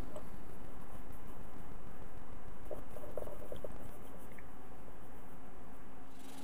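A fine-toothed hand saw flush cuts glued wooden plugs on a wooden guitar holder, giving a steady run of quick, scratchy strokes up close with no talking.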